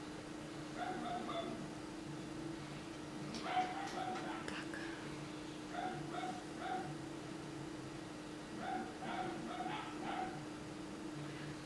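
Distant dogs bark in scattered bursts, faint and far off, over a constant low hum.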